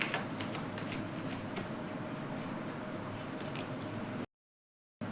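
Tarot cards being shuffled and drawn by hand in quick, close, steady riffling bursts, with no talking, ending in a brief silence before a final soft card sound.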